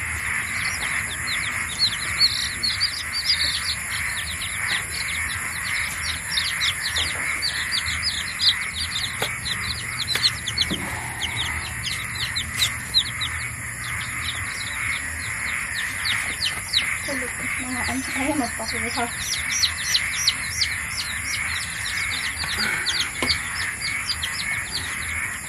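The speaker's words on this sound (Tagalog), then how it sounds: "Ang gaganda ng sisiw, ang gaganda ng tayo." Newly hatched Basilan and Rhode Island Red chicks in an incubator peep in a continuous chorus of rapid, high chirps, with a steady background hum and a person talking intermittently.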